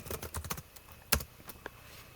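Computer keyboard typing while entering a search for a blue background, a quick run of soft key clicks followed by a louder isolated tap and a few scattered presses, close and fairly quiet with no talk.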